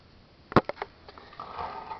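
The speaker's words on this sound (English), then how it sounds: "You can sniff the camera, that's cool." A dog sniffing right up against a camera, a sharp close snuffle followed by a few quicker short sniffs, then faint soft rustling, quiet and alone.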